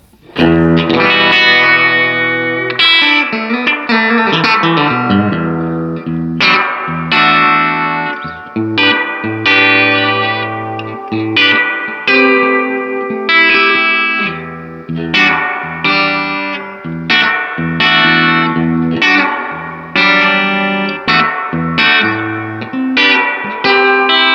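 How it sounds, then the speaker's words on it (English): Distorted electric guitar chords ring out through a Roland RE-201 Space Echo tape echo unit, a heavy wash of echo and reverb, notes trailing and repeating behind each strum; no talking. "I think we can all agree the reverb sounds nice."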